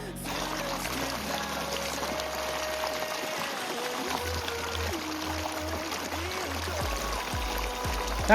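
Irrigation water flowing and pouring into a sugarcane field, a steady rushing stream heard close and fairly loud throughout, with a brief louder surge at the end.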